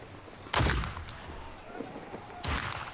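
Musket gunfire in the video game Blackwake: two loud, sharp booming shots about two seconds apart, the first reverberating before fading into ambient game noise.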